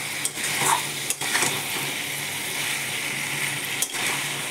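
A mustard dish stirred in a pan over a high flame, a steady sizzle broken by a few distinct scrapes and knocks of the spoon against the pan, close up, with no voices.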